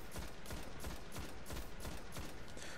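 Shotgun blasts in a multiplayer shooter game: rapid, evenly spaced booming shots, about a dozen in quick succession, fairly faint and with no talk over them.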